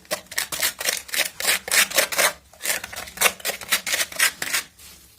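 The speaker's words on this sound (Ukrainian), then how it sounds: "Робимо ось таку суміш і забиваємо її в шовку." A tool works tile adhesive mix into floor seams with repeated rough scraping strokes, about a dozen close rasping pushes in an even rhythm with short pauses between them.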